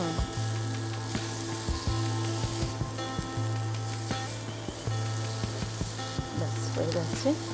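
Cauliflower mixture sautés in a pan for Bengali paturi, a steady close sizzle with intermittent stirring scrapes over a constant low hum.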